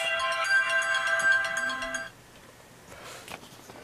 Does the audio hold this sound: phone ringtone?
yes